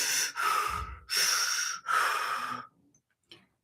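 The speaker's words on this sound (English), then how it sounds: "there's pursed lips breathing, and it's exactly what you would think it is" Three slow, steady exhalations through pursed lips, each a soft airy blowing hiss lasting about a second, close and quiet, followed by a faint short breath.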